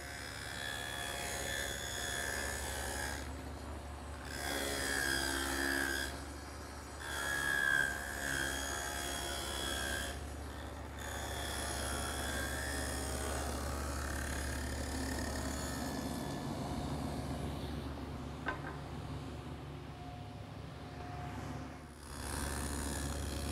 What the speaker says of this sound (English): And I'll do that over on the table saw.